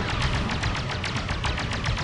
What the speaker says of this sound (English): let's see these grenades pop off